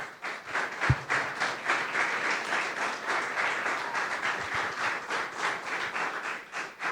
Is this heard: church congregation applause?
yes